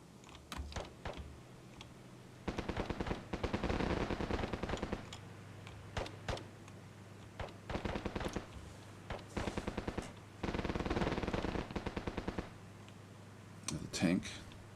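Bursts of automatic gunfire from units in the Cold War tactics game Armored Brigade II, with rapid rattling volleys repeating in several clusters and a few single shots. The firing is mixed with keyboard typing, and a voice comes in near the end.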